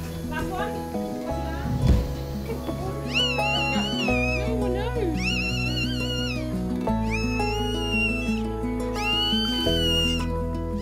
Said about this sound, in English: A newborn puppy's cry is so precious.